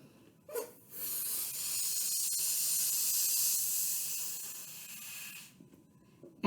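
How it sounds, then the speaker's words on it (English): A balloon being inflated by mouth for a homemade hovercraft experiment: one sustained, steady hissing rush of breath into the rubber lasting several seconds, close and fairly loud, with no talking over it. "So then you're going to blow up your balloon."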